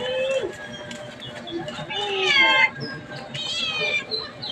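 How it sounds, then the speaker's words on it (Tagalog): Several stray cats meow repeatedly while being fed outdoors, drawn-out overlapping cries of rising and falling pitch, close and fairly loud, with a person talking quietly underneath. "Dami kong alagang pusa, oh."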